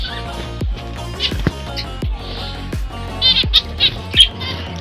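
A nesting pet bird gives repeated sharp squawks and chirps in short bursts, close and fairly loud, with faint background clatter between calls.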